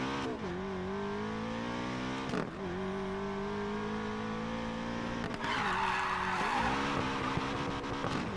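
Drifting car in Need for Speed Payback, its tires skidding and squealing over a steady engine drone, with a brief dip and a harsher rising squeal toward the end; no talking.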